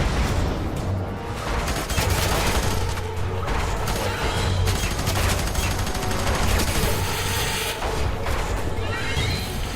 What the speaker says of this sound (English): There we go with the scorched earth rockets again.